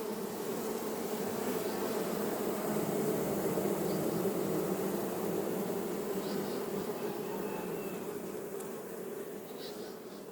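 Bees swarm around wooden honey bee boxes set among the mangroves of the Sundarban forest, a dense continuous buzz close by that eases slightly toward the end.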